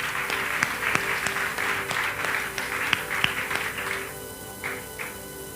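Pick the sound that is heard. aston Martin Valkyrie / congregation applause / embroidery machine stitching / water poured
congregation applause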